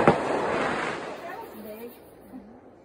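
Neighborhood fireworks going off outdoors, a sharp crack at the start followed by a rolling rumble that fades away, with a voice talking over the tail.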